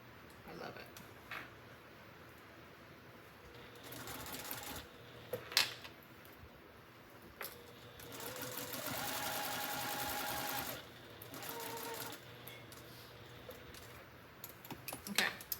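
A straight-stitch sewing machine runs in short, quiet bursts of rapid stitching with pauses between them as it sews a fabric liner for a Longaberger basket.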